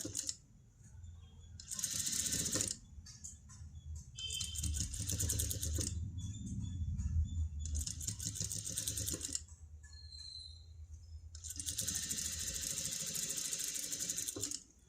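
A sewing machine stitches blouse fabric in several bursts, a fast mechanical whirring rattle that starts and stops, with quieter gaps between runs and no talking.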